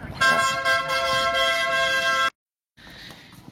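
A gas delivery truck on a Spanish street gives a long, loud steady horn blast of about two seconds, then falls silent before a quieter second honk starts.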